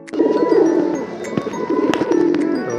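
Pigeons in a pigeon loft coo close up in repeated low, throaty, rolling phrases that overlap, with occasional sharp clicks and flutters.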